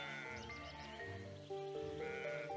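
Sheep bleat as a sound effect for a children's story about a shepherd leading his flock back to the fold, with several wavering calls in a row set against soft background music.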